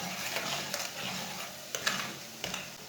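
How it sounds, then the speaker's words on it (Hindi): Spices cook in a pan over very low heat for aloo matar curry, a soft sizzle with scraping stir strokes and a few light clicks of a utensil, close and quiet. "सब मसालों को 1 मिनट तक पका लेंगे।"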